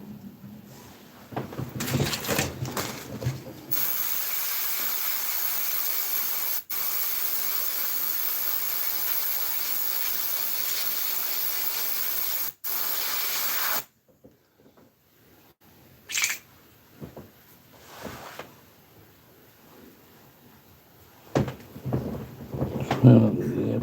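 An airbrush sprays paint onto an Italeri 1/48 scale Hawk model kit, giving a steady, loud hiss that runs for about ten seconds with two brief breaks, then stops, leaving faint handling noises.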